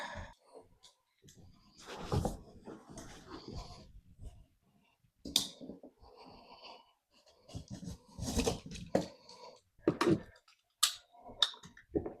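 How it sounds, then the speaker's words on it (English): A blade cuts through old caulking along the top of a wooden hall tree, producing scattered close scraping, clicking and snipping bursts separated by quiet pauses. "the next step is we need to cut the caulking along the top and then pull it out"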